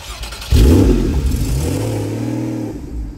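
A Porsche Cayman S with a 2.7-litre flat-six and PDK gearbox pulls away on the road, the engine rising loudly and close in a revving surge, then settling into a steadier drone as it cruises.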